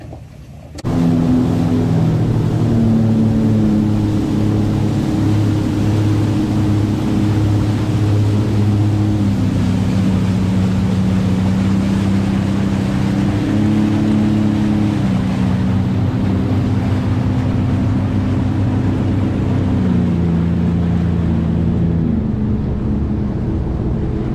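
Jet skis ride on Crystal River in Florida with a loud, steady engine drone that rises and falls in pitch. It is close and constant, without talk, and fades slightly at the end.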